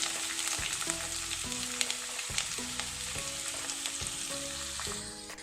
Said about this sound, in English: Let's add thinly chopped onions into this.